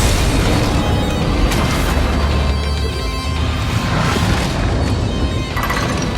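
A detonation explosion in the Honkai Star Rail video game, a dense, sustained roar of booming, crashing noise that fills the whole clip loudly without a break or voices.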